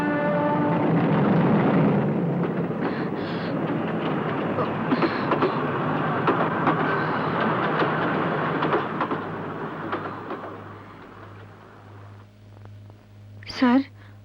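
A train rumbles and clatters as it pulls away from a station, the sound fading gradually over several seconds, with voices talking nearby and a brief shout near the end.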